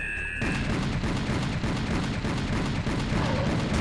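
Rapid pistol gunshots in the first-person shooter Serious Sam HD: The First Encounter, a dense loud barrage of repeated shots and booms running continuously with no break.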